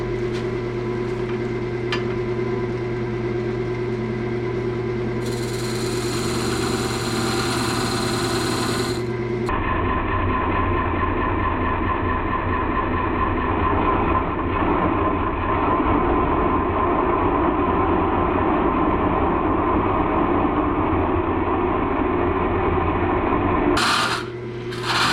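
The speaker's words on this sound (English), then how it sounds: "I'll be using the Sorby carbide tip here, flatten that out." Steady close-up tool-on-wood noise of a wood lathe as a Sorby carbide-tip tool flattens the bottom of a turned piece, a continuous whirring scrape over a motor hum that briefly brightens before settling and stopping near the end.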